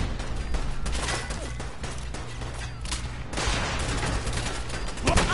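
Sustained bursts of gunfire in the video game Fallout 4 rattle on loudly and continuously, with heavier cracks and a few booms standing out in the barrage.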